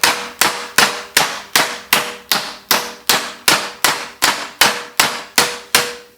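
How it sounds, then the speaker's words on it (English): Hammer blows on sheet metal against a dolly ring out at a steady, even pace, about two per second, each a sharp clang with a short ringing decay. "pick yourself up a cheap set of hammer and dollies and use this"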